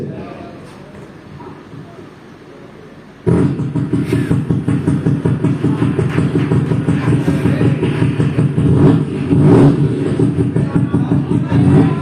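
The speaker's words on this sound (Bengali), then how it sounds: "মোটরসাইকেল আমি স্টার্ট দিচ্ছি প্রথমে সাউন্ড চেক করবো ইঞ্জিনের শব্দ" A motorcycle engine starts abruptly and settles into a loud, steady, throbbing idle with a rapid pulsing beat, close by, and people talk nearby.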